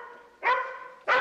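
An Irish setter gives two sharp, close barks about half a second apart, with a whining, tonal tail between them.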